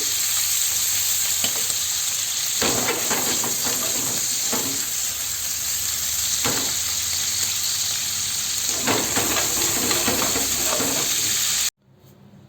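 Lamb liver fries in a pan with a loud, steady sizzle throughout, close up and broken by a few sharper crackles and spatters, then cutting off abruptly near the end.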